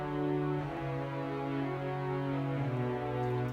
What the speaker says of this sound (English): I've used the high strings and the low strings longs.